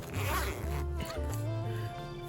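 A zipper on a sewn backpack's outer pocket is zipped in several quick, close rasping pulls, with a low tonal sound running beneath.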